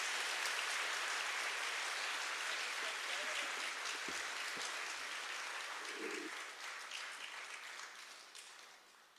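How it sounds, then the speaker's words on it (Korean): A church congregation at Wonju Samcheon Church claps to welcome a visiting missionary preacher. The dense, steady applause fills the room and fades gradually near the end. "우리 나오실 때 할렐루야 박수로 환영하십시다"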